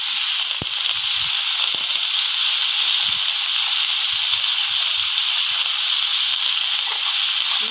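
Pumpkin pieces frying in a pan with turmeric and salt give off a steady, loud sizzle that holds without a break, with a few faint pops and crackles low beneath it.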